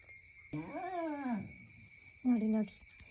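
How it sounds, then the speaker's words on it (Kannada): In the morning at a countryside home in Malnad, pet dogs give two close, drawn-out wavering howls. A longer cry rises and falls, then after a pause a shorter, whimpering one follows. "ನೋಡಿ ನೋಡಿ ನಮ್ಮನೆ ನಾಯಿಗಳು."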